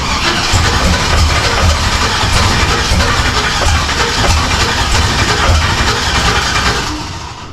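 Turbocharged Chevrolet Camaro engine cranking and catching, a loud, close, continuous churning roar with a rough rhythmic pulse that settles and fades slightly near the end.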